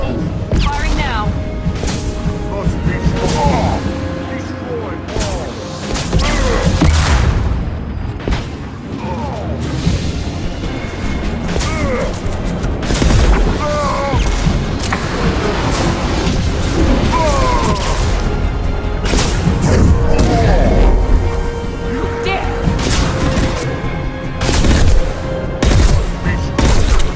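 Weapons fire in Mass Effect 2, a loud sci-fi firefight with repeated blasts, bursts and crashing impacts throughout, with voices talking over the shooting.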